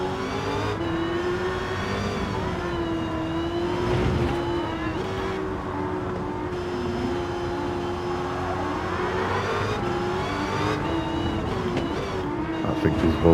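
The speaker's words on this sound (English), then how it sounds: "This car handles surprisingly well for an American muscle car, and the acceleration is just mental." Dodge Challenger SRT Demon muscle car in Gran Turismo 7 at the Nürburgring with traction control off; its engine roars loudly and continuously, pitch climbing and dipping with gear changes throughout.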